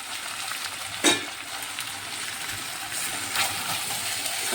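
Fried potatoes going into a sizzling chicken curry in a pan, with a loud, continuous frying hiss close by and a single metallic clank of a utensil early on.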